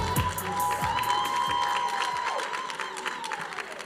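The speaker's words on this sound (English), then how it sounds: "Let's give them a round of applause for the top 5 kings and queens." Applause and scattered cheering rise from the crowd for the top five kings and queens at a Mister and Miss HBCU pageant, a continuous, fairly distant roar of clapping that slowly fades.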